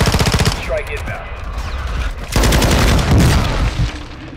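Airstrike explosions boom and rapid gunfire rattles in Call of Duty Warzone, loud and dense, with overlapping blasts and bursts of automatic fire.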